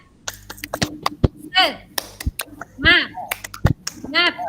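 A classroom group performs a rhythmic clapping chant, sharp hand claps falling in patterned bursts between short sung or shouted syllables, led by a teacher.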